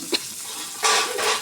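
Dried fish frying with spices in a pan, a quick stir scrape near the start followed by a broad sizzling burst that swells and continues, close and moderately loud with no talking.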